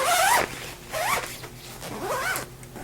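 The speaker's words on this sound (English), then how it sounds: "you're going to be able to drape the different colors right over your reflector and then zip it up" A zipper on a Neewer 5-in-1 photography reflector's fabric cover is pulled shut in three quick, close rasping strokes, each a bright rising zip separated by short pauses.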